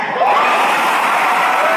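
Crowd at a political rally shouting and cheering in anger, a loud sustained roar of many voices with whoops rising over it, continuous from start to end.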